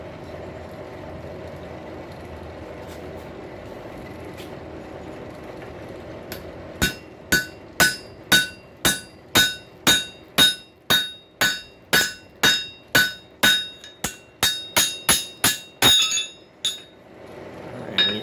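Hammer blows on hot steel at an anvil while forging a tenon hook, a steady run of about twenty sharp ringing strikes starting after quiet shop ambience, close and loud with an even rhythm.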